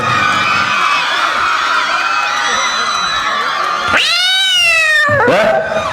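A student performing on stage at an Independence Day show imitates a cat with long, loud, wavering meows, two drawn-out calls near the end over a noisy crowd background.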